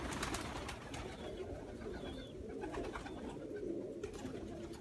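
Pigeons gather to feed on scattered barley, their steady pecking and shuffling mixed with soft cooing throughout, fairly close and continuous with no voices.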